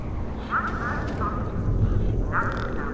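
Birds squawk in a grim outdoor scene in the game Beyond a Steel Sky, with harsh quacking honks in two short clusters over a dense rumbling ambient background.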